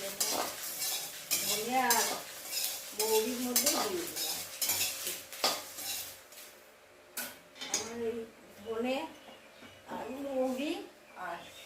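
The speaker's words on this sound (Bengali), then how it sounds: "লঙ্কাটা আর একটু দিলাম লঙ্কাটা ভালো ভাজা হবে" Spatula scraping and clattering in a pan as dried red chillies fry with mustard seeds over a light sizzle, while someone talks intermittently nearby.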